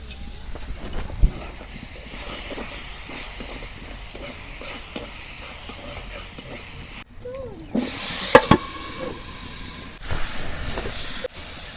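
Potatoes and spices fry with a steady sizzle and hiss in oil left from frying pangas fish, with a spatula stirring and scraping at intervals and a louder burst of steam midway.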